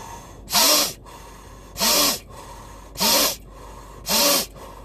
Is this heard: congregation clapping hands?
no